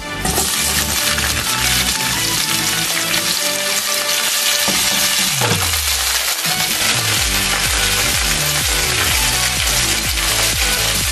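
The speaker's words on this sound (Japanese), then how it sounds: "ニンニクと鷹の爪から香りが出てきたら枝豆入れます。" Edamame fries with garlic and dried red chili peppers in a pan, a loud dense sizzle that runs continuously throughout, with scraping stir sounds mixed in and no voices.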